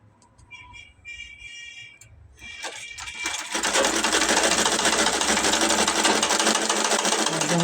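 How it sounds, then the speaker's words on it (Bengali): A sewing machine stitches the neck of a dress, starting with a few short bursts before settling into a loud, steady, fast whirring run close by. "জামার গলা সেলাই করতেছি।"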